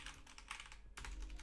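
Computer keyboard typing: a short run of soft, close keystrokes over a low background hum, with a brief pause midway.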